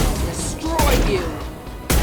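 Gunfire in the video game Mass Effect 2: two sharp, loud bursts of shots break over a steady game backdrop with mechanical tones.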